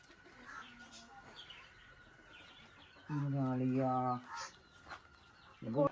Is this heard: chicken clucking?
yes